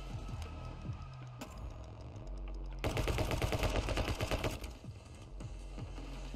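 Rapid gunfire from the action video game My Friend Pedro, dense bursts of quick repeated shots that intensify into a loud sustained volley midway before tapering off, with game music underneath.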